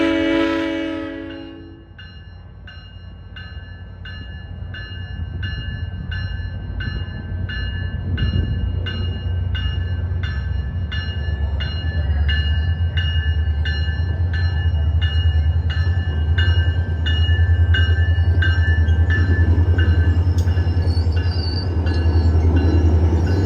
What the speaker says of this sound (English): Now we see southbound train 325 with the rather infamous cab car 2008 at the lead